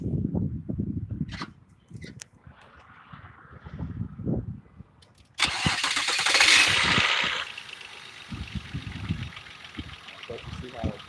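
A car engine cranks and starts midway with a sudden loud roar that settles into a lower running hum, with people talking before and after.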